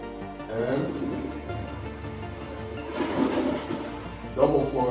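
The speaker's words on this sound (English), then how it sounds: "double flush for number two" Double flush of a water-efficient toilet: two rushing surges of water in close succession, the second starting right as the first ends, with a voice speaking over the gurgling.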